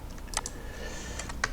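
Typing on a computer keyboard: a quick run of light, close key clicks with a couple of sharper taps near the start and end, no talking.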